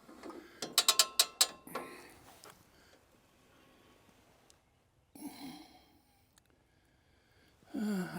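Portable sawmill head being cranked down about an inch and a half, giving a burst of rapid ratcheting clicks early on, then quieter mechanical rattles and a couple of short scraping bursts later.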